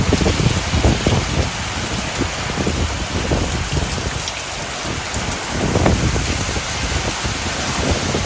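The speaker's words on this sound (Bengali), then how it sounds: "দেখেন আবার কি হারে বৃষ্টি শুরু হয়ে যায়।" Heavy rain pouring down at night during a storm, a dense steady roar of drops drumming on surfaces, loud and close, with slight surges in intensity and no voices.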